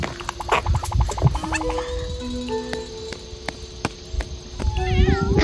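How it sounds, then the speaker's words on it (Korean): A cat meows repeatedly at close range, several drawn-out cries rising and falling, over faint outdoor background noise. "고양이를 만났다."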